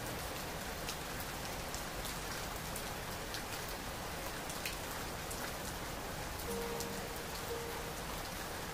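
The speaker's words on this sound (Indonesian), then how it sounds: "Dengan kondisi saat itu masih hujan gerimis." Light drizzle falls steadily during an evening hike on Mount Gede, a soft, even hiss of rain with scattered faint drip ticks, quiet and continuous with no voices.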